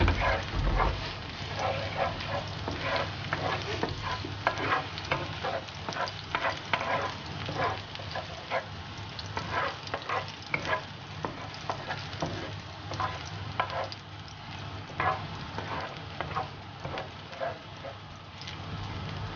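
Garlic sizzles in hot oil in a pan while being stirred for seafood spaghetti, a steady quiet crackle broken by repeated soft scraping strokes of the spatula.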